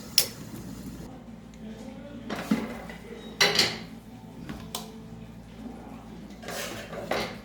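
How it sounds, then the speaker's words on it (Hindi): Chicken curry being served from a pot into a serving dish: a ladle clinks and scrapes against metal in scattered knocks, fairly close, with a quiet background hum. "चूल्हा बंद करते हैं, नीचे उतारते हैं, इसे डिश आउट करते हैं"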